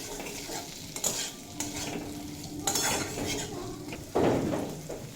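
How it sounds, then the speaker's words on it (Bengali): Drumsticks (sajne data) frying in a pan for a vegetarian dish, a low sizzle under repeated scrapes and clinks of a spatula stirring against the metal, with a louder scraping stir near the end. "এবার এড করে দেব সজনের ডাঁটা। দিয়ে 3-4 মিনিট মতো ভেজে কষিয়ে নেব।"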